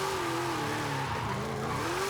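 A car slides sideways on snow tires in the racing game Forza Horizon 5, giving a steady, continuous tire squeal over the engine's drone, loud and close throughout with no talk.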